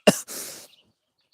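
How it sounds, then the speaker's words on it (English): A single close, loud fart bursts out sharply, then trails into a short airy hiss before silence. "did you hear that fart?"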